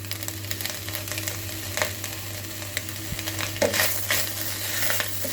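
Rice upma being stirred inside an electric kettle with spring onion and lemon added, giving a steady soft scraping and sizzling texture with occasional light clinks, close and continuous without talk.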